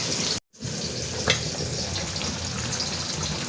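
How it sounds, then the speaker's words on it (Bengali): Food fries steadily in a pan with a dense, even sizzle and crackle. There is one brief dropout near the start and a single small clink, with no talking. "একটু ভাজা হোক"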